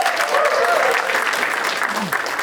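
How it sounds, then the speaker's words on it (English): A studio audience at a comedy game show applauds steadily throughout, dense clapping from a large audience that stays loud and even from start to finish. "Huge round of applause for the panel."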